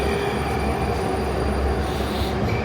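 A Moscow metro train pulls into an underground station, its steady loud rumble filling the platform with rolling wheel noise and faint high squeals throughout.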